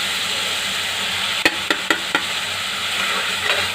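Dry spices sizzle and fry in masala in a pan while rikwach kadhi is cooked, with a steady hiss throughout and a few close, sharp clicks of stirring against the pan.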